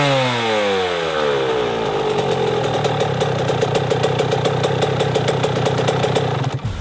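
A 2000 125cc motorcycle engine revs hard during a ride, its pitch sweeping up and down through repeated rising runs with a steady throb, loud and close, no voices.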